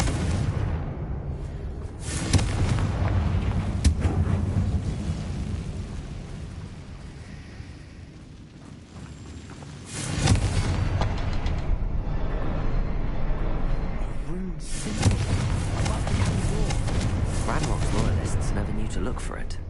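Fire-spell blasts in Hogwarts Legacy, deep rumbling explosions that roar up repeatedly, with a lull in the middle and two strong bursts later, layered under continuous game noise and talk.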